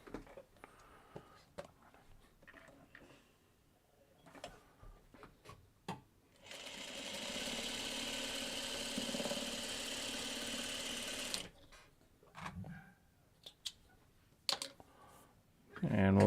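A sewing machine runs in one steady, close burst of about five seconds while stitching quilt block pieces, with quiet handling noises and a voice talking before and after the stitching.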